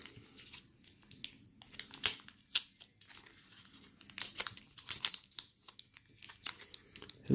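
Painter's tape peeled off a mail package of baseball cards, crackling crinkles and short ripping tears in irregular bursts, close and fairly quiet, with no talking.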